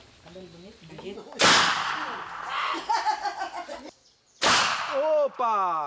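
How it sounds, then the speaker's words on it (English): An alcohol-fuelled contraption lit by flame lets off two sharp, loud gunshot-like bangs a few seconds apart, with people laughing and chattering around them. "it's a machine that makes the noise of gunshots when you light up the container after pouring alcohol in it"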